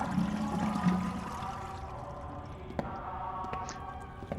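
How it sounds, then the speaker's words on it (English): A toilet flushes in the video game Spirit Hunter: Death Mark, a short watery rush that fades into a quiet trickle with a couple of small clicks, moderately loud and heard without talk. "Flush."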